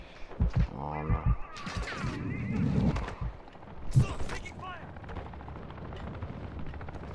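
Helicopter in a Call of Duty match on the Vondel map, a rumbling rotor drone mixed with bursts of gunfire, partly under excited voices talking over it.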